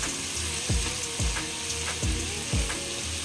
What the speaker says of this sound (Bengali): এবার এটাকে নাড়িয়ে দিয়ে ভেজে নামাবো।